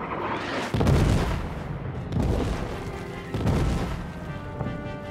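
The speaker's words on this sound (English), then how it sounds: "After that volley of artillery" An artillery volley rumbles through a trench warfare video game: repeated heavy booms and blasts roll in close succession, loud and dense, with overlapping reverberating impacts.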